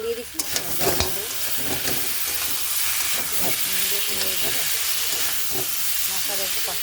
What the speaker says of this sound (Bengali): মশলাটা একটু কষানো হয়ে গেছে ভালো